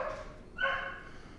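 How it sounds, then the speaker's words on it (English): Dogs barking in kennels just after feeding time, a couple of distant, muffled barks and yips rising in the background with no talk over them. "You may hear dogs barking in the background"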